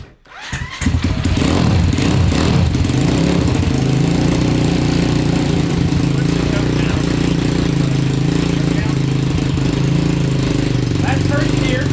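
A 190cc five-speed yard kart engine starts and then runs in first gear with a loud, steady, close rumble that holds for the whole stretch, and voices are heard over it.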